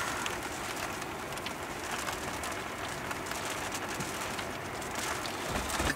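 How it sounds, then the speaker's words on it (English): Steady rain falls in Durres, Albania, the first summer shower near the old city walls: an even, continuous patter close by, with no talking. "first rain of the summer."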